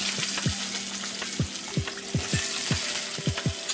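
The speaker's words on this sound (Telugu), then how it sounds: "తర్వాత ఆనియన్ వేసుకోవాలి" Chopped onions frying in oil in a pan, a continuous sizzle broken by repeated scraping stirs at an uneven rhythm, close and clear.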